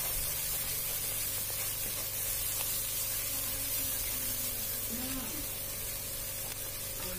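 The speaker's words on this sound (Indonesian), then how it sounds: "Kita tumis jadi satu hingga harum." Red and green chilies, shallots, cloves and garlic stir-fry together in a pan, a steady close sizzle with faint stirring under a constant low background hum.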